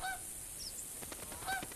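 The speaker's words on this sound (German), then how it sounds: "Hier kommt noch ein paar Gänse angeflattert." Canada geese honking in the hunting video game The Hunter, a couple of faint nasal honks at the start and again near the end over quiet background ambience.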